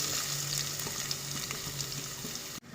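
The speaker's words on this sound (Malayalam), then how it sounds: "ഇതിലേക്ക് ഉള്ളി ഇട്ട് കൊടുക്കട്ടോ." Onions frying in hot oil give a steady, dense sizzle that hisses close and loud throughout, then cuts off abruptly near the end, with no voices.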